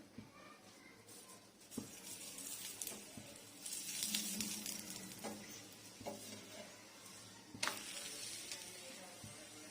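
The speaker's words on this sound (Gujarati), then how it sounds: "બે બાજુ તેલ લગાડી અને એને આપણે સારી રીતે ચડવા દઈશું." Thepla flatbread cooking with oil on a hot griddle, a soft continuous sizzle with brief crackling bursts and occasional scraping, fairly quiet and steady.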